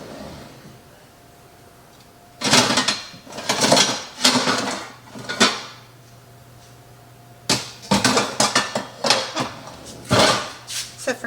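Metal pots, pans and lids clattering and clanking while someone rummages through kitchen cookware for a pot lid, bursts of loud close rattles separated by pauses, with a steady low hum underneath.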